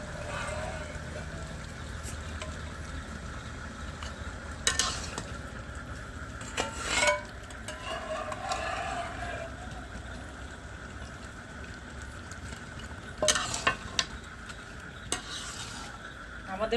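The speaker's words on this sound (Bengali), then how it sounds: "এখন আমি এটাও আবার একটু কষাবো। গোস্তের ঝোল নিয়েই আমি মুগের ডালটা কষাইছি।" Mung dal being stirred and sautéed in mutton broth in a pot for Bogura-style dal khasi gives a steady low sizzle, with a few sharper spoon-scraping clicks around the middle and later on.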